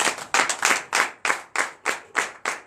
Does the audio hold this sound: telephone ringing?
no